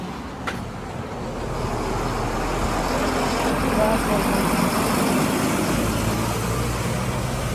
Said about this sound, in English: there's so many buses that come by